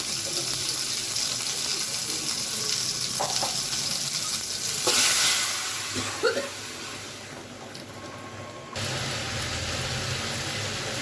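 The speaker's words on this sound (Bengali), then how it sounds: "আমি 5 ফোড়ন দিয়ে ডালটা সম্বার দেবো" Dal being tempered with five-spice seeds, green and dried chillies and bay leaf in a home kitchen: a steady hot-oil sizzle with a few clinks and stirring knocks midway, then the frying resumes loud and even.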